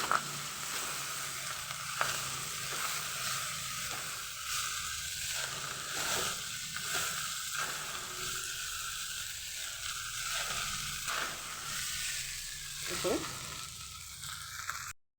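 Rice frying in a pan with paneer and salt added on top, stirred with a steady hiss and sizzle and intermittent scraping stirs throughout, close and continuous with no talking.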